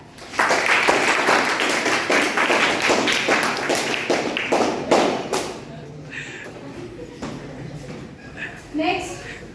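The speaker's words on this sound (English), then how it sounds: "Please clap." Students in a classroom clap together in a dense burst of applause that thins into scattered separate claps, with voices in the room around it.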